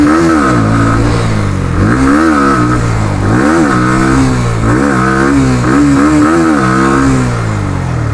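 2026 Bajaj Pulsar NS160 motorcycle engine revving and accelerating hard through the gears, a loud, close, continuous rasping exhaust note that rises and falls in repeated sweeps.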